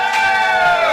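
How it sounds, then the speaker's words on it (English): Audience applauding and cheering for guests on a theatre podcast, a dense, steady wash of crowd noise with a few shouts on top, lasting about a second. "let's give them a round of applause for being such wonderful special guests today"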